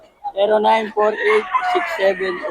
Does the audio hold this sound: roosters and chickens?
yes